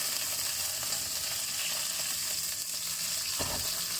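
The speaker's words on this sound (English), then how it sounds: "I'm just going to lightly pan fry the prawns first." Raw prawns sizzle steadily in a pan as they lightly fry for laksa fried rice, a close, continuous hiss with a brief scrape of stirring near the end.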